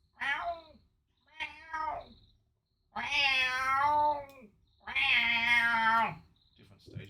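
A cat meows four times: two short calls, then two long, drawn-out wails separated by brief pauses. The calls are fairly close and clear, with no other sound between them.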